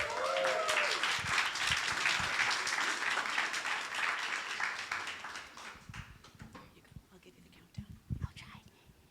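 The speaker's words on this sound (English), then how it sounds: "please start clapping as Yétúndé makes her way up to the stage" An audience at an Ignite Talks evening at MSU claps steadily as a presenter walks up to the stage, a dense wash of applause that thins and fades after about six seconds, leaving scattered claps and murmuring voices.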